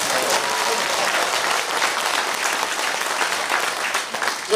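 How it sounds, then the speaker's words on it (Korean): An audience at a party members' education meeting breaks into loud, steady applause, a dense continuous clapping that fills the whole moment without pause. "그거 둘 다 박수 크게 치세요"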